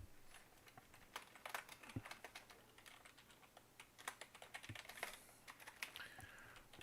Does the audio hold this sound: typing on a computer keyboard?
yes